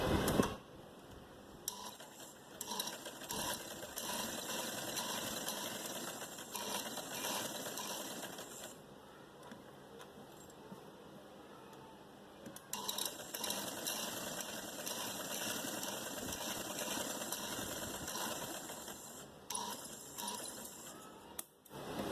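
A sewing machine stitches straight fabric together with buckram for a frock, running in long steady whirring bursts with brief pauses between runs, close and alone without talk.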